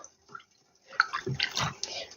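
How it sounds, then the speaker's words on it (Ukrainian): Vinegar poured into a small measuring shot glass while making marinated tomatoes with onion: a short, close liquid trickle and splash, quiet and brief, with small clinks and no talk. "Зараз буду міряти, я отак наливаю."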